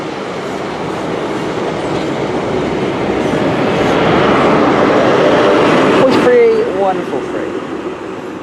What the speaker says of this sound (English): Great Western Railway service from Penzance to London Paddington